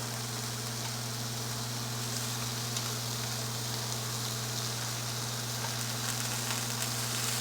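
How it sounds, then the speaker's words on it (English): Mushrooms frying in a pan beside salmon, giving a constant dense crackling sizzle that holds steady throughout over a low hum, with no voices. "So let me flip the"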